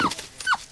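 A dog whimpers twice in quick succession, close and fairly loud, with high rising whines in a short burst.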